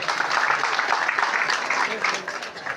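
A crowd at a village society office groundbreaking ceremony claps in a steady, sustained wash of applause that fades slightly toward the end, with voices mixed in.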